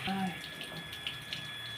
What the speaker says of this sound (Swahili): Haya, weka maji.